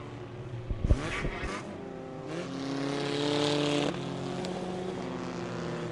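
Race cars battle side by side on a speedway, their engines droning and shifting pitch as they pass close by, with a sharp burst near the start before a steady, rising roar.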